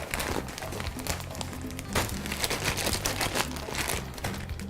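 Plastic bag of rice being handled in a kitchen, with crisp crinkling and rustling in irregular bursts, close and moderately loud.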